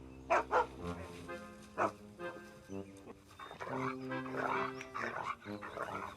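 A dog barks in short bursts, a few sharp yelps early on, then a steadier stretch of noisy, overlapping vocalizing; fairly close and moderately loud.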